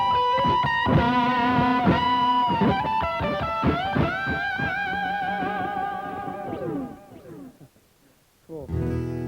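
Electric guitar with an extra distortion pedal kicked on for a solo boost, playing loud sustained overdriven notes and bends in a continuous line that fades out before a brief new chord near the end.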